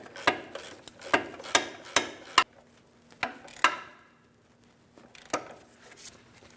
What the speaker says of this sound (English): I tightened it with my 1/2-inch drive ratchet and just made sure it was nice and tight